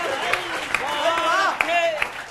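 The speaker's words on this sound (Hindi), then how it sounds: "तालियां थोड़ी और उठाना।" Audience applause at a Hindi comedic poetry recital, light scattered clapping under a voice that keeps speaking, with a few sharper claps standing out over about two seconds.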